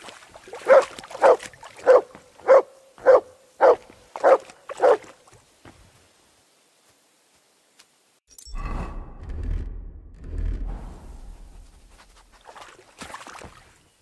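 The dog Mutt in the game Kingdom Come: Deliverance II, giving eight evenly spaced whines or yelps, followed by silence and then a low rumbling scuffle of movement and rustling.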